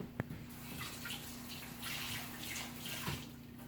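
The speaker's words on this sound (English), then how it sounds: "Just rinse my knife off." Water runs steadily from a kitchen tap as a knife is rinsed during pasta preparation, a faint continuous hiss with a soft knock near the start.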